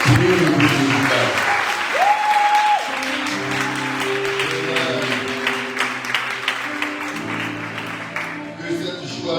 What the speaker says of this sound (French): tu vas donner une grande acclamation au Seigneur pour le groupe musical